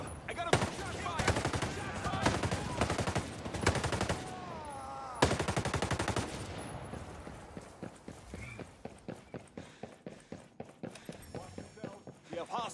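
Gunfire in the video game Ghost Recon Breakpoint, dense bursts of rapid automatic shots early on, then a steady run of single spaced shots, with voices talking throughout.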